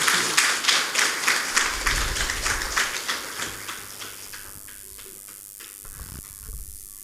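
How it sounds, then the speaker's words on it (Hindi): An audience claps enthusiastically to welcome a guest speaker at a Brahma Kumaris spiritual gathering in Adampur, Punjab; dense rhythmic applause fills the hall, then gradually thins and fades toward the end. "हम सभी ज़ोरदार तालियों से उनका स्वागत करेंगे"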